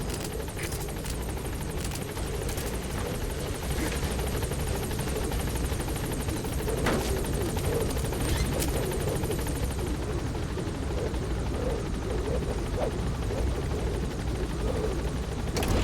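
B-Quad helicopter holding at a landing zone in Metal Gear Solid V, a loud steady rotor drone with whining turbine tones and rhythmic blade chop, close and continuous throughout.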